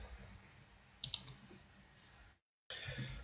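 Computer mouse clicks while working in CAD drawing software: two quick, sharp clicks close together in a quiet room, with faint background hum and a brief dropout afterward.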